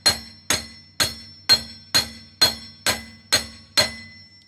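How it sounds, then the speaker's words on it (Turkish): Nine evenly spaced metallic clanks ring out as the back of a wheel nut wrench on a Ford Tourneo Courier is struck with a hammer or stone, each hit sharp and close with a short ringing decay. "şöyle bir çekiçle, bir taşla arka tarafına vurarak"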